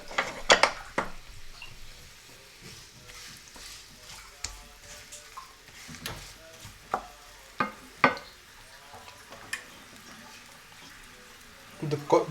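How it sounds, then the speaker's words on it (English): Quiet sizzling of hot oil in a copper pan on low heat, with scattered clinks and scrapes of a utensil stirring against the metal. "You can see it has already started to sizzle because the oil is hot."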